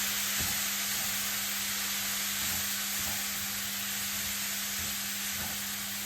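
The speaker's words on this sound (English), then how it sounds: "now I'm gonna add the rice to it" Rice goes into a hot pan for Trinidadian broccoli rice, giving a steady broadband sizzle and hiss with soft, irregular stirring scrapes through it, close up and with no voices.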